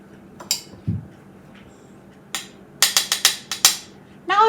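Metal fork and cutlery clinking in a kitchen while making keto Big Mac smash burgers, a few sharp scattered clinks early on, then a quick cluster of bright clanks near the end, loud and close with no talk.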